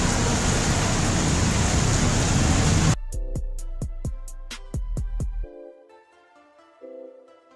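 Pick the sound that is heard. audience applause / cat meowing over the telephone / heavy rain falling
heavy rain falling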